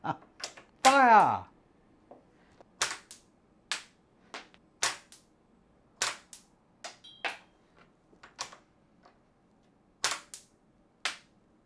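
A Leonardo da Vinci-style toy wooden catapult kit firing and reloading, giving a series of sharp, close clacks and snaps at irregular intervals, with one brief whooshing swoop near the start.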